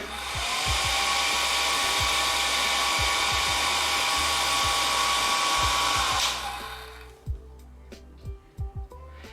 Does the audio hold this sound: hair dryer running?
yes